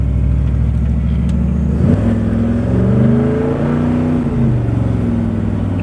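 A truck engine roars under hard acceleration, loud and close, its pitch climbing through two shifts before holding high.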